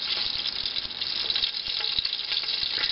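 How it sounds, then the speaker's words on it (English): Steady crackling sizzle of butter frying in a pan, a dense hiss with scattered pops, close and continuous, no voices. "Y'all hear that sizzle?"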